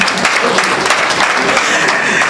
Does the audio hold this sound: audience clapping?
yes